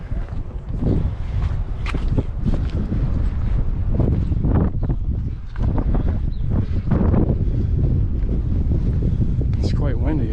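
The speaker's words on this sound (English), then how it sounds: "It's quite windy up here." Steady, loud wind buffeting the microphone on Areopagus Hill in Athens, a continuous rushing roar with gusty bursts throughout.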